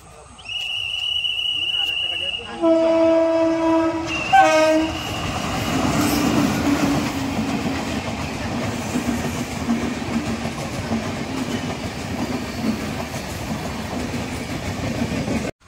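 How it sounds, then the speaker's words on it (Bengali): A train approaches and passes at night near a roadside stop, opening with a long, loud horn blast followed by a steady heavy rumble and clatter of wagons rolling by close, with a voice briefly heard. "দেখতে পাচ্ছ আসছে ট্রেন।"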